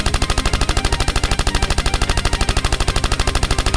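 Rapid, loud, continuous machine-gun style gunfire in a game battle against a robot monster, steady repeating bursts throughout with no voices.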